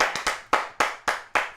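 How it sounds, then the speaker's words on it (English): Round of applause on a talk show, heard as six slow, separate hand claps in an even rhythm, each crisp and fairly close, with quiet gaps between them. "please say hello with a big round of applause"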